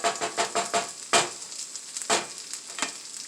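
Poor man hash frying in a pan, a steady close sizzle broken by irregular crackling pops and bursts, with no voices.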